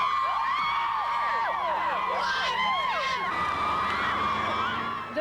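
Vancouver Canucks fans packed together before a 1994 Stanley Cup Final game against the New York Rangers, a dense, steady roar of cheering, whooping and shouting voices with whistles and horns cutting through throughout.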